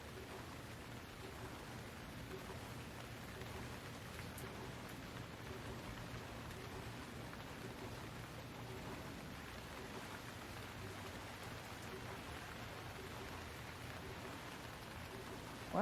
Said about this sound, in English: Unfortunately, the rain also drowns out any shark noise.